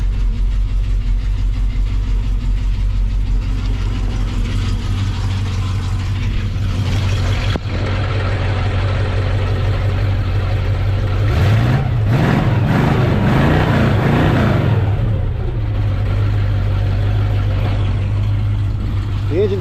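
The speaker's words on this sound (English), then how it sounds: "The engine sounds good, but like I said, it is making a pulley noise." A 1968 Ford Mustang engine idles steadily with a low rumbling drone, fairly close, and a brief rev or surge partway through.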